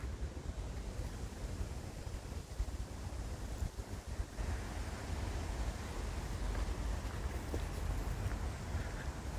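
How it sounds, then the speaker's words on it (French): Steady wind rushing across an open outdoor memorial site, a continuous broadband roar that resembles distant surf, loud and unbroken with no one speaking. "Avec le vent, on dirait qu'il y a la mer pas loin là."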